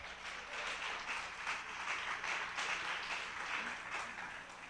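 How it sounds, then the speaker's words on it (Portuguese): A church congregation applauding, a sustained wash of many hands clapping steadily, heard from a distance and fairly faint, without talk. "Você pode aplaudir ao Senhor por conta disso?"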